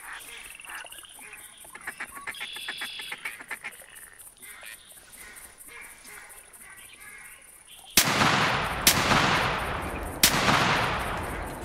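Three sharp, loud rifle gunshots ring out in the video game theHunter Classic during a duck hunt on a bayou, each with a long decaying echo, following a stretch of duck quacking and ambient marsh sounds.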